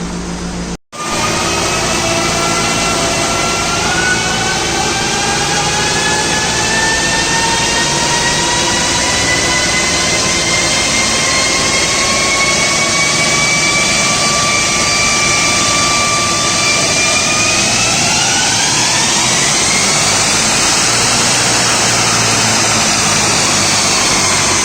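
A car held in fourth gear on a dyno pulls hard for about twenty seconds, its engine note climbing steadily in pitch and rising near the end, loud and continuous with no talking.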